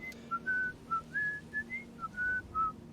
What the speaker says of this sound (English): And Fergus whistling merrily in the background.